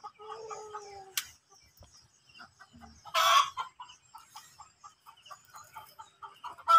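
A rooster clucks and crows in short bursts, with other hen clucks scattered around it at moderate distance.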